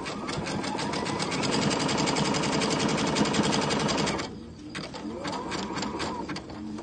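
A sewing machine stitches fabric in a fast, steady mechanical rattle for about four seconds. It pauses briefly, then runs again in shorter, lighter bursts, heard close with no talking.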